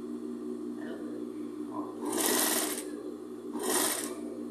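A sewing machine stitches over a patchwork bathroom set in two short, rapid bursts of whirring needle action against a quiet hum, with brief pauses between runs.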